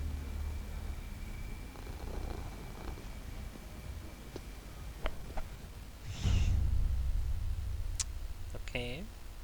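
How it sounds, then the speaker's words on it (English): A cat purrs softly in the video game Ghostwire: Tokyo, a low steady rumble under quiet game ambience, with a few clicks and a brief louder burst near the end. "Can you hear the kitty purring?"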